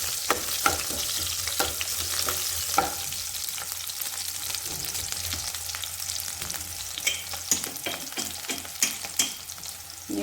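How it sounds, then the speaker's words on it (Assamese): Onions frying in a pan for pasta, a close, steady sizzle with sharp clatters and scrapes of a spoon stirring at irregular intervals, no voices. "2-3 মিনিটৰ কাৰণেহে ভাজিম পিঁয়াজখিনি"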